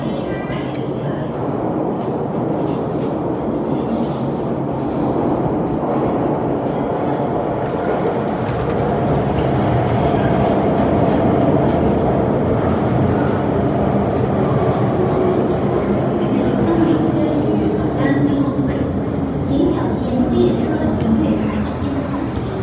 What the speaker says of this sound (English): Train to Taiwan is arriving.